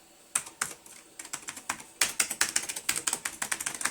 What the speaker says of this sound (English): you have your classic keyboard here. Listen to this.